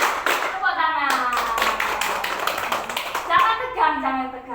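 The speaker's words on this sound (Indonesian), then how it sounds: "Tepuk tangan." Classroom clapping: a group of children clap hands in a rhythmic pattern of single and double claps, loud and close, with children's voices chanting along throughout.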